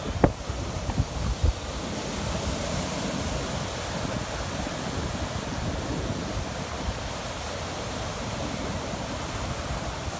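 Steady roar of ocean waves washing in continuously at Jacksonville Beach pier, broadband and constant, with a few brief knocks at the start and no voices.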